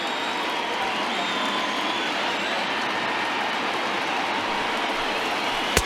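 A stadium crowd of over 21,000 in the baseball video game MLB The Show 20 cheers and roars steadily as fans rise to their feet, a broad continuous wash of noise with a sharp crack at the very end.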